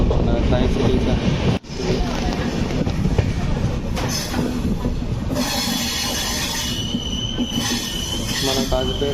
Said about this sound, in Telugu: అవుటర్లో స్లోగా రన్ అవుతుంది మన ట్రైన్ అయితే.